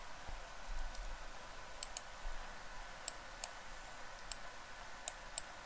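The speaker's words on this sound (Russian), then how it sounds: "Двойной щелчок." Computer mouse double-clicks while working in the XOD IDE on an Arduino button-and-LED lesson: sharp, quiet clicks in quick pairs, spaced across the clip over a faint steady hum.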